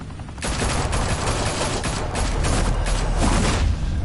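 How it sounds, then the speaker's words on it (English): Dense, sustained gunfire in a Batman video game, a loud continuous barrage of rapid shots lasting several seconds with no talk over it. "Open fire!"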